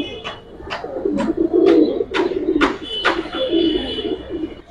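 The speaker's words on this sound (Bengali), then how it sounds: "পুরান জাতের বেশ কিছু কবুতর আছে, সেই সাথে গিরিবাজের পাল্লা লাইনের কবুতর ভাইয়ের কাছে সবসময় থাকে" Giribaz pigeons coo steadily in a low, soft murmur while sharp wingbeat-like taps and flutters punctuate it every half second or so, close and clear with no voices.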